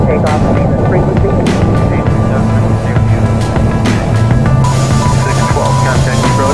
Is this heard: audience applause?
no